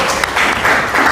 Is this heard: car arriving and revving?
no